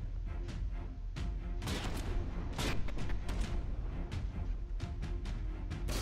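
Cannon shots striking a turret in the naval combat game From the Depths, a rapid irregular series of sharp booming impacts and crashes, some overlapping, at moderate volume.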